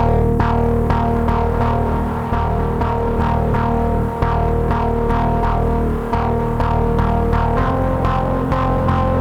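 A synth lead patch with reverb applied, sounding as continuous loud, throbbing sustained chords with rhythmic pulses and a washed, echoing tail, no voices.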